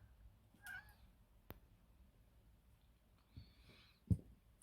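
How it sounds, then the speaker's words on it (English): A domestic cat meowing indoors, two faint separate meows a few seconds apart in an otherwise quiet room, with a couple of small knocks. "that's the cat, did you hear her?"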